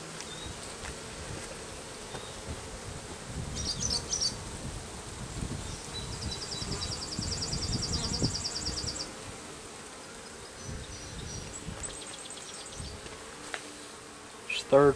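Honeybees from a package hive buzz steadily throughout a hive inspection, a dense, close, moderately loud hum with occasional louder passes near the listener, and faint rustling underneath.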